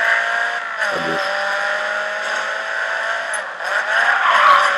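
A Nissan Silvia in the racing game Grid 2 drives with a loud, steady engine drone and sustained tire squeal as it slides through a drift, with a brief dip in pitch early on and no talk.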